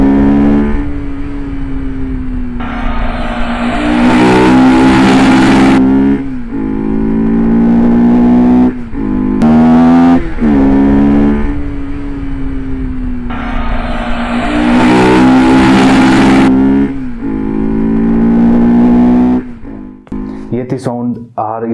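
A Bajaj Pulsar RS200 motorcycle fitted with a modified aftermarket air filter idles loudly up close, then revs in a series of sharp rising blips that drop back to idle, several times over.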